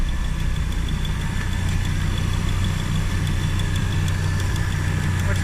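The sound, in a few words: TEC Travel Cruiser engine running with slight valve tick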